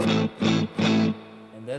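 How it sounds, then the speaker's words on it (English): Electric guitar played through a Fender Super Reverb blackface amp, with three loud sustained chords or phrases ringing out in turn before a quieter tail. "That's the real super reverb"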